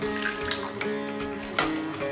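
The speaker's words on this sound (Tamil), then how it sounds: "இப்போ தண்ணி ஆட் பண்ணிக்கோங்க." Water poured into rice flour batter in a home kitchen, heard as a steady, close splashing and trickling stream that surges briefly near the end.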